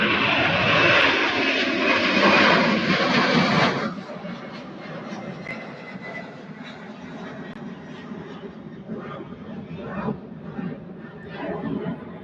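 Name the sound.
Boeing 747 taxiing at Louisville airport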